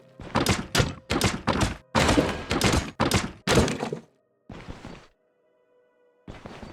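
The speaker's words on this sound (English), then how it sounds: "And let's destroy a few more barrels." Wooden barrels smashed one after another in the fantasy RPG Stoneshard, a rapid series of heavy thunks and cracking breaks at close range, then a short pause before one more impact.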